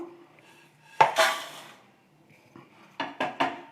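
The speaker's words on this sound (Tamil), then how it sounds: "இப்போ இதை நம்ம ஒரு தட்டில் மாற்றிக்கிட்டு இதை ஆற வச்சு" Roasted masala spices being tipped from a pan onto a plate in a home kitchen: a loud metallic clatter and scrape, then a quiet pause and a quick run of three sharp clinks near the end.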